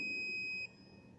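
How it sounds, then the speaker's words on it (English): A GSM SIM 900 wireless electronic notice board's buzzer sounds a single shrill, steady electronic tone for about half a second, then cuts off, leaving a faint low hum. "Here the buzzer indicates the notification about the arrival of the new message."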